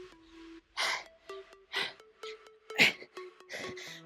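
Loud, hard breaths from someone mid-way through a beginner full-body cardio toning workout, coming in a string of sharp gasping bursts roughly every half second, close to the mic with no talking.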